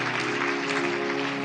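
A congregation at a Punjabi-language sermon applauds in a steady, dense wash of clapping that continues evenly throughout, with a faint tonal hum beneath.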